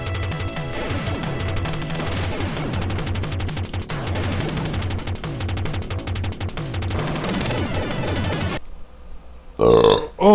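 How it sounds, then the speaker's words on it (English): A loud, drawn-out burp close to the microphone over dense, busy Captain America and the Avengers game audio, which drops away near the end before a final short burst. "I might be the only one who burps on stream."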